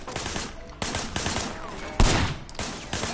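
Gunfire in the video game Sleeping Dogs, with loud shots cracking at irregular intervals over a continuous rumble of background action.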